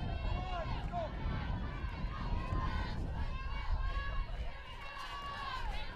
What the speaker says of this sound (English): Now, very loud cheering from the Czech dugout